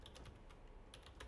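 Quick, quiet keystrokes on a computer keyboard tap out a short burst of typing, faint and close with no voices.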